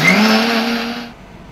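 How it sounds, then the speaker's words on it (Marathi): A mixer grinder blends cold coffee with ice cubes, a loud whirring motor tone that winds down and stops after about a second. "छानपैकी असं मिक्सरला हे आपण फिरवून घेतलंय"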